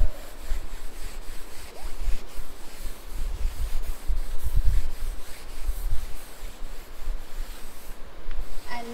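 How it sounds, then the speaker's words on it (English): A duster rubs a classroom board clean in repeated back-and-forth strokes, a loud, close scrubbing rhythm that continues steadily throughout without talk. "I am rubbing the board."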